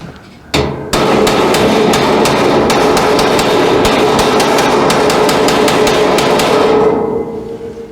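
A vise used as a hammer strikes metal while a furnace is being repaired, giving a loud, close run of rapid, irregular blows that continues for several seconds after one sharp opening hit.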